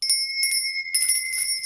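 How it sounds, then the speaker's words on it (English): A handheld bell rings in three bright bursts, each struck tone sustaining clear metallic overtones between strikes, loud and close with no talking. "I'm going to be ringing this bell"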